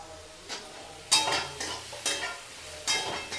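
Spices and tomatoes fry in a pan, a steady close sizzle broken by several loud stirring scrapes and clatters at irregular intervals, with no talking.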